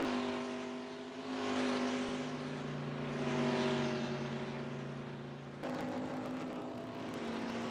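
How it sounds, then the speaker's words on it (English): Race cars finish a NASCAR Racing 2003 game race at Canadian Tire Motorsport Park, with a loud sustained engine drone whose pitch rises and falls before a sudden shift as another car's engine takes over. "as Reeves comes down pit road, movement will see the checkered flag and steal one here at Canadian Tire"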